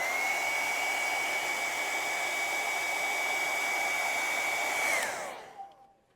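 A hair dryer blasts close up over wet acrylic paint on a fantasy forest canvas, a steady loud whirring hiss with a high whine that runs unbroken for about five seconds before switching off and spinning down.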